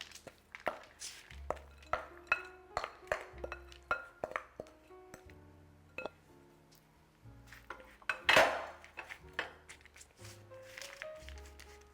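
Pumpkin spice granola being spread evenly across a parchment-lined baking tray, with a run of close, light scraping, clinking and tapping hits in an irregular rhythm, one louder crinkly burst near the end.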